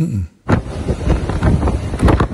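Strong wind buffets the microphone in flooded Venice during its worst flooding in 50 years, a loud continuous roar with gusting pulses and a brief dip near the start.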